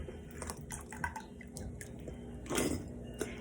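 Hot water poured into glass canning jars packed with raw potatoes: a soft, steady trickle and splash that swells into a louder gush of pouring near the end, with no talking.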